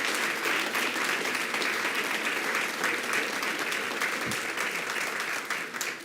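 An audience at a school board meeting applauds the Weslaco High School Dreamettes, with sustained, even clapping from many hands that holds steady before easing off at the end.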